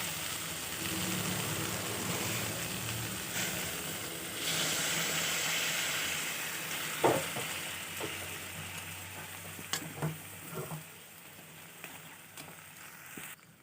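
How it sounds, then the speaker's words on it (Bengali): Hot water is poured into a pan of cooking potatoes for a vegetarian soybean dish. It makes a steady, fairly quiet hissing rush that thins out, followed by a few soft clinks. "এখন দিয়ে দেবো আমি এতে গরম জল"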